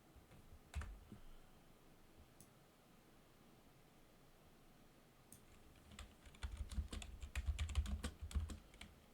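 Rapid keystrokes on a computer keyboard, sparse and quiet at first, then a dense burst of clicky typing toward the end, close and alone without talk.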